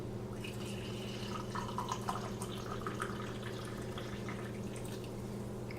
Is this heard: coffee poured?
yes